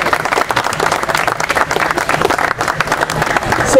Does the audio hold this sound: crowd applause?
yes